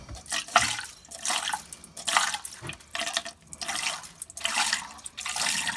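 Pink antifreeze poured through a funnel into a cottage drain by the flapper valve, a close gurgling liquid pour in repeated bursts with brief pauses between.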